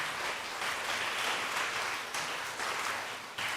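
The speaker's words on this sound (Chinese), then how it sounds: "我们鼓掌来欢迎他" A church congregation welcoming a first-time visitor with steady, dense applause from many hands filling the room, continuous throughout with no talking.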